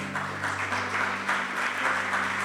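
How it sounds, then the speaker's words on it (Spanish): A church congregation applauds during a Spanish-language sermon, steady moderate clapping beneath a held organ or keyboard chord, no speech over it. "Denle un fuerte aplauso al Señor."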